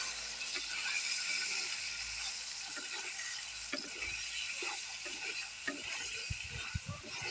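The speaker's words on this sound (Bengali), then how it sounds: "এখানে ছুলে রাখা রসুন, গোটা রসুন দিয়ে আমি আর একটু ভেজে নেব" Whole peeled garlic cloves frying in oil in a pot alongside chopped onion, a continuous dense sizzle with occasional crackles and stirring clatter toward the end, no talking.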